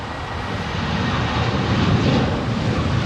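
A KLM airliner departs from runway 27R at London Heathrow, its jet engines a loud, steady roar that swells slightly and holds without any talk.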